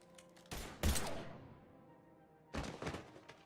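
Gunfire in the Mass Effect video game comes as two short, sharp bursts of thudding shots about two seconds apart, fairly quiet, with no talking over them.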